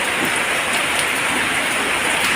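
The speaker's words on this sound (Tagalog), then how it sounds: "thankful kami na umulan today ng ganito. Hindi masyadong malakas." Steady light rain falls on the ground behind a house, a dense even hiss of drops that stays close and continuous with no voices.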